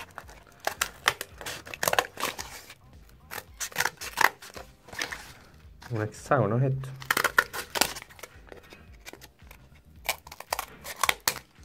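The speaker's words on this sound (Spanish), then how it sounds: "Buenas tijeras, ¿eh?" Scissors snip paper for an origami pencil holder in quick, crisp bursts of cuts, with paper crinkling and a brief rustle in the middle, while someone speaks Spanish over part of it.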